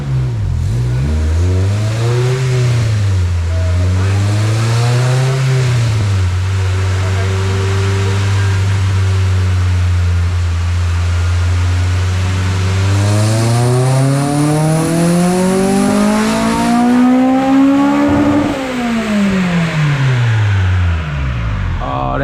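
A Honda K20A engine swapped into a 1994–2001 Integra revs on a dyno, its loud, steady drone climbing and falling repeatedly before a long pull rises sharply through the VTEC crossover near 8,500 rpm, then drops off.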